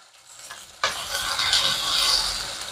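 After a brief quiet moment, a loud burst of sizzling erupts as food hits a hot wok, then keeps crackling steadily.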